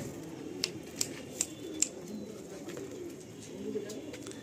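Andhra pigeons released from a loft give sharp, quick wing claps four times in a row, faint over a low hum of background noise, with soft cooing underneath.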